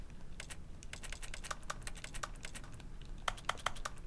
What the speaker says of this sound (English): every time I press the A button, it, like, sounds like I'm still clicking at the keyboard